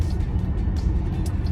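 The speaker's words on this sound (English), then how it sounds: "It's a V8, has a lot of power, has sufficient torque." Jeep Grand Cherokee L Summit with a V8 engine heard from inside while driving, a steady low drone and road rumble holding constant without talk.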